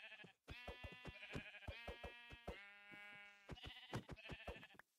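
A sheep in the video game Minecraft bleats in a quick run of wavering, nasal calls, quiet overall and heard alone without talk.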